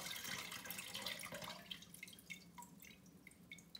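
Water draining from freshly washed edible flowers in a perforated tray, a soft, close trickle that thins into faint, scattered drips toward the end.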